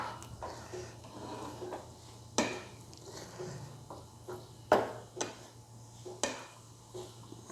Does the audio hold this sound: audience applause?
no